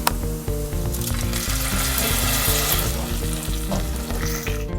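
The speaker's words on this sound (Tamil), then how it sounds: "இப்போ காஞ்ச மிளகாயை சேர்த்துடலாம்." Dried red chillies hiss and sizzle in hot oil with mustard seeds, a tempering for sweet and sour mango pachadi; loud, close, continuous frying crackle with no speech.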